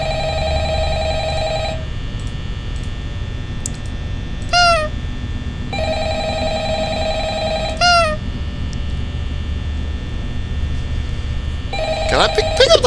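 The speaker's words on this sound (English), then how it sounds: "Can I pick up the phone?" An old-style office phone rings in Five Nights at Freddy's, its long repeating tone bursts separated by gaps in which short rising and falling sweeps sound, all over a low steady hum.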